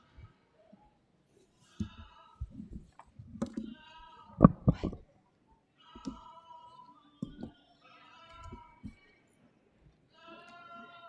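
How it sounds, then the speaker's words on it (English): Lightweight market goats bleat repeatedly at a county fair livestock show ring, a series of loud, wavering calls from several animals with brief quiet gaps and some hoof and handling noise between them. "On deck is our first class of lightweight market goats."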